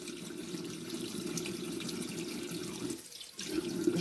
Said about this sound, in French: Donc j'humidifie ma peau.